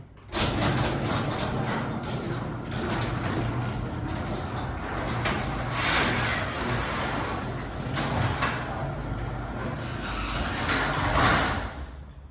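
A Liftmaster 3280M garage door opener lowering a CHI door, a steady mechanical rumble and rolling whir running continuously with occasional clacks and rattles from the door panels, close and moderately loud.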